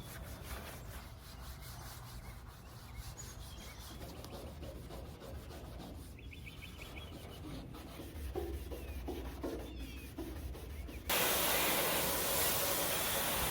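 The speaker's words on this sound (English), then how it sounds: "So let's start sanding." Body panels on a Chevrolet C10 Squarebody truck bed are sanded in a sanding booth, a continuous abrasive rubbing hiss. It grows louder and brighter near the end, with no speech.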